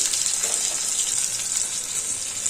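Cumin and fenugreek powder sizzling in hot oil for a tamarind pulp gravy, a steady bright hiss that holds even and continuous throughout, fairly close with no talking.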